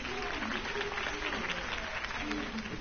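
Crowd applause in a PS4 video game at a Harvey Dent campaign rally: dense, steady clapping and cheering that fills the whole stretch, with voices mixed in.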